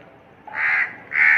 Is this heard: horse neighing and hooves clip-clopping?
no